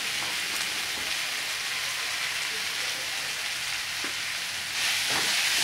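Onion and tomato tempering sizzles steadily in a pan for methi rice, a continuous bright frying hiss with no talk, swelling slightly louder near the end.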